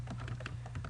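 Faint, rapid clicking of typing on a computer keyboard, a quick burst of keystrokes lasting about a second.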